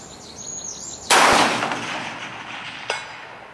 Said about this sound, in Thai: หลังจากนั้นพี่พรามก็ไปทำการยิงเพลทที่400นะครับ